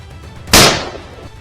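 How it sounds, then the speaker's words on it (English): A single loud, close gunshot from a hunter's gun fired at a wild boar in forested hills by a farm, with a sharp crack followed by a decaying echo over quiet background. "The gunshots rang out through the forested hills"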